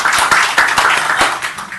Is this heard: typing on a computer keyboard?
no